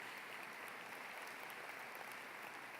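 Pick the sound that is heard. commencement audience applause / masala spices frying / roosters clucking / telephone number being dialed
commencement audience applause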